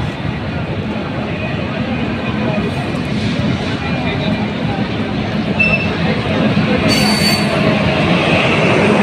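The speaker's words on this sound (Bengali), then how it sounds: "বিশাল বড় ট্রেনটা, অনেক বড়, অনেক সুন্দর একটা ট্রেন।" A large, newly decorated train rolls past close by on a railway line in Jurain, with a loud, continuous rumble and rattle of wheels on track plus occasional wheel squeal throughout.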